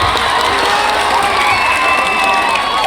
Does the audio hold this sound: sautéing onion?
no